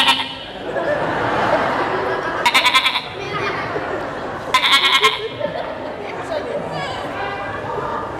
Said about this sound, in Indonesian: Anak kambing.